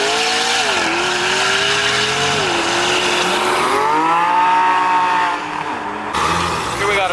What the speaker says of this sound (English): Then we got the McLaren right here.